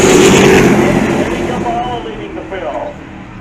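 A pack of race trucks charges off the start at Jennerstown Speedway, engines roaring loud and close before the dense accelerating drone thins as they pull away, with a commentator talking over it.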